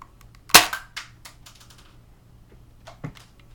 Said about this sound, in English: Just gonna drop it in here and shoot the curtain.